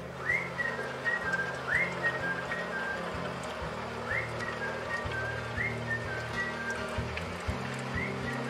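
A melodic whistled tune rises in short repeated phrases over a strumming musical backing.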